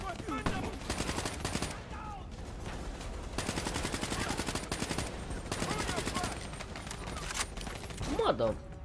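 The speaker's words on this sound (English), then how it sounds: "Wait, we can shoot now." Automatic gunfire in the shooter Call of Duty: Black Ops 3, several loud rapid bursts of rattling shots separated by short pauses, with voices talking between and over them.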